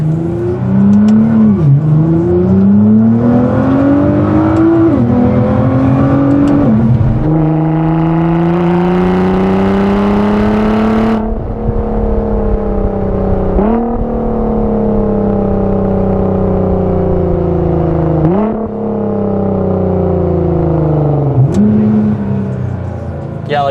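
A Nissan GT-R with a titanium aftermarket exhaust revs loudly and up close, climbing and falling in pitch through several repeated pulls, with a sustained high-rpm hold in the middle.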